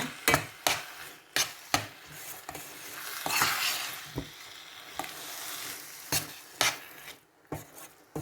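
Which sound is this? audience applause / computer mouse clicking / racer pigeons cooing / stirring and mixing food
stirring and mixing food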